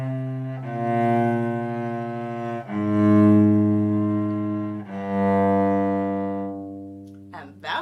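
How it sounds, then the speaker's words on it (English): The four-note bass line of Biber's Passacaglia is played as a slow descending sequence of long, sustained, even bowed tones, each note held about two seconds, clear and close with no voices over it. "We will hear this bass line, which I'm going to play for you in just a moment, continuously through the entire piece."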